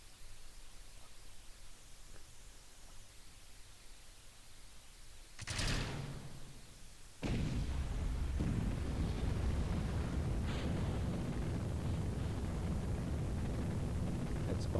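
Rocket engines igniting at launch in Kerbal Space Program, as the launch clamps release: a sudden broad roar that surges, briefly dips, then settles into a loud steady rumble that holds to the end.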